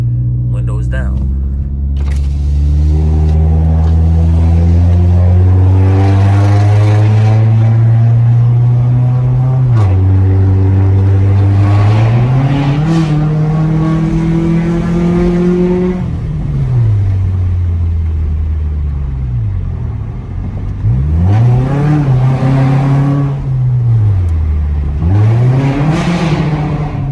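A 2002 Honda Accord with its exhaust resonator deleted, heard with the windows down, revs up and down repeatedly in a loud, droning rumble that rises and falls, with a voice occasionally underneath.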